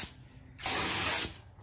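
A steady burst of aerosol spray paint hissing for about half a second, close and loud, with faint background noise before and after, painting a Honda Civic engine bay.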